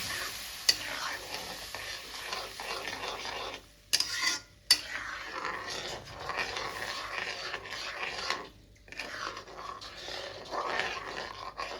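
Hot water poured into roasting semolina while making sooji halwa, giving a steady sizzling, bubbling hiss with stirring scrapes that runs most of the way through, with a few brief gaps.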